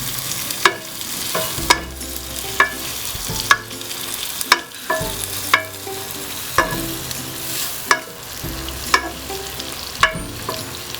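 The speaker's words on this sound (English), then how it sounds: "So you fry your onions." Onions frying in red oil in a pan while making a Nigerian yam and vegetable dish: steady close sizzling broken by regular, sharp knocks of a spoon stirring and scraping the pot.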